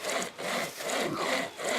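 Wood being cut with a Sportsman pocket chain saw, a few close rasping back-and-forth strokes in a steady rhythm, with no voices.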